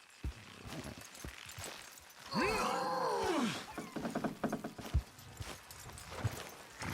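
In the video game Red Dead Redemption 2, horse hooves clip-clop in a steady rhythm alongside creaking, with a long groaning animal-like call in the middle and sparse voices.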